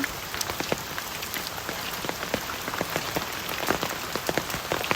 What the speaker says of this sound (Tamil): எங்கள் ஊரில் மழை பெய்யுதாமே.